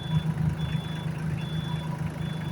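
A Solis 24 hp tractor engine from Sonalika runs at a steady low rumble as it is shifted into gear, with a faint repeating high beep over the hum and no voices.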